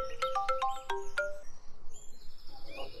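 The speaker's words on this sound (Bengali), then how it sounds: "এমন সময় পলাশের ফোন আসে।" A cartoon phone rings in a Bengali ghost story, playing a bright, beeping electronic ringtone: a quick run of chirpy tones for about a second and a half, then fainter sustained tones, clear and close with no talking.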